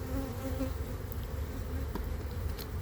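Honeybees buzz in a dense, continuous drone close by at the hive, a steady hum of many insects with no voices.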